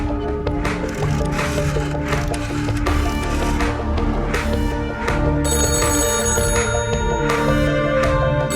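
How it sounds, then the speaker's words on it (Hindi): A telephone rings repeatedly over a dense, loud musical score, the ringing steady and continuous throughout with no voices. "फोन लगातार बज रहा है"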